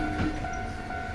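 A train rolls past a railroad crossing in a Kamakura-set horror video game, a steady, loud rumble with a sustained tonal ring throughout, no voices.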